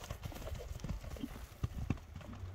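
A ridden horse's hooves clip-clop at a horse sale, a quick, uneven run of faint hoof strikes with a couple of sharper thuds, and a voice is heard faintly.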